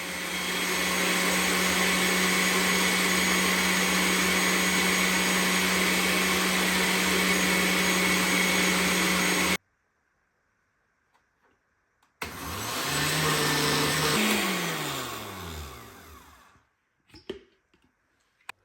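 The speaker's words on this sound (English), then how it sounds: "I've got the heavy cream in it right now, and I'm supposed to whip it just until it starts getting some peaks, but this blender goes pretty fast" A fast kitchen blender whips heavy cream in a loud, steady whir for about nine seconds, stops briefly, then runs again in a second burst with a shifting pitch before winding down amid a few clicks.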